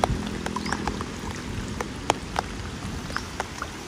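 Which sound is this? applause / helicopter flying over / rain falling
rain falling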